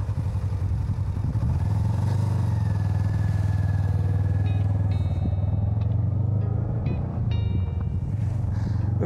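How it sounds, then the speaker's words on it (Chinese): A motorcycle engine runs steadily at close range after a roadside farewell, its low mid-pitched drone loud throughout and easing slightly toward the end, with faint metallic clatter and no talk. "那摩托车就是快啊！"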